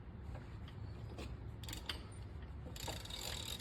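A roll groover works a pipe, giving a continuous close mechanical ratcheting, clicking whir with bright metallic chatter bursts, steady and fairly quiet.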